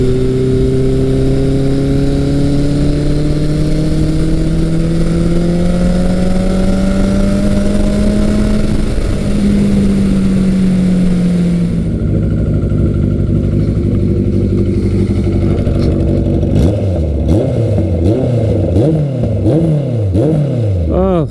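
A 1983 Kawasaki GPZ 1100 engine runs loud and steady while riding, its tone sliding up and down through gear changes, then falling into rhythmic rising revs; a voice talks over part of it.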